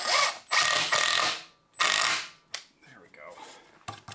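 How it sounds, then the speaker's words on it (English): Power driver running Timberlock screws into a timber frame awning, several loud bursts of whirring driving separated by short pauses, then lighter clicks and rattles. "then I can go back and screw in the Timberlock screws"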